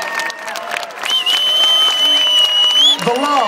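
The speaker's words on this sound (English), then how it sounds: "Big round of applause, guys." An audience at a MotoGP riders' forum at Silverstone applauds and cheers as a rider is welcomed, steady crowd clapping under a host talking over a microphone, with a whine of feedback or a tone running through.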